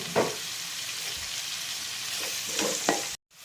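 Four large sliced onions sizzle steadily in a pan for a Kottayam-style Kerala chicken curry, with several sharp scraping stirs of a spoon punctuating the constant frying hiss before a brief cut.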